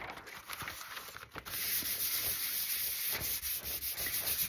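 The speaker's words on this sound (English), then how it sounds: "if you start polishing" Newspaper rubs across an inked collagraph printmaking plate in a steady, close, dry scratchy friction that grows continuous and loud after a brief pause.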